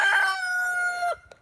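A rooster in the video game Water Simulator crows once, loud and close, a single drawn-out call that cuts off abruptly, followed by a faint short cluck.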